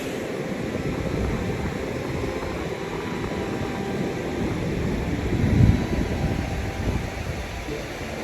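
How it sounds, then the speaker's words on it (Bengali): Steady wind rushes and buffets across the microphone, with a stronger gust swelling briefly near the end. "সুন্দর বাতাস।"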